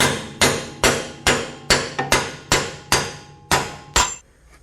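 Hammer blows on a stubborn rivet in a 1984 GMC squarebody truck frame, about ten sharp, loud metallic strikes in a steady rhythm, each ringing out briefly, alone without talk.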